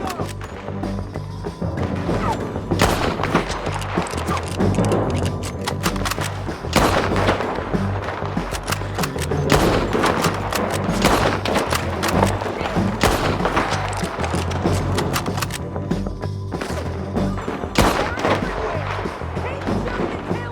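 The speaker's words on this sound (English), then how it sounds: "Keep shooting until they're gone!" A Red Dead Redemption 2 shootout against bounty hunters on a ridge, with dense rapid gunfire, repeated sharp cracks and heavy blasts over a continuous loud battle din, and voices shouting in between.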